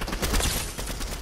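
Rapid bursts of gunfire in the Fortnite battle royale video game, dense overlapping shots crackling close and loud for the whole moment with no voices over them.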